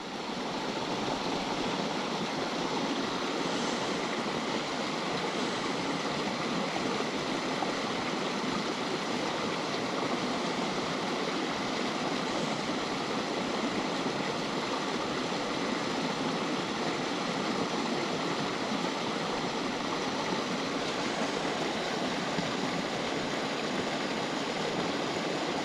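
Rushing white water on a small Nevada fishing stream, a broad, constant roar of churning current filling the whole stretch at steady loudness.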